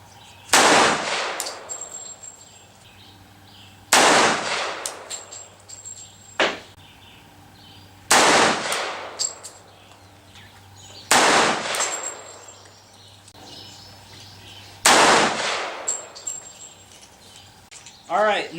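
Single pistol shots firing 180 grain flat-point cast lead bullets loaded over 4.4 grains of Bullseye powder ring out at a range, five sharp cracks spaced about three to four seconds apart, each with a short decaying tail.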